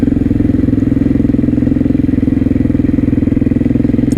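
Single-cylinder KTM 660 SMC engine lugging in a high gear, a loud, close, rapid pulsing thump that shakes and judders evenly throughout with no talk.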